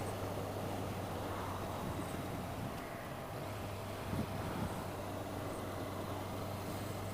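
A Honda CB650R inline-four motorcycle engine lugs at low RPM in fifth gear, a steady low hum under constant wind and road rush while riding, with no talk.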